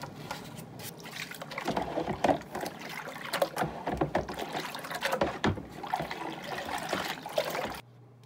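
Running water rinsing a sticky Atari 2600 console case in a bath, a steady splashing wash with irregular bursts and drips throughout, close and moderately loud, stopping abruptly near the end.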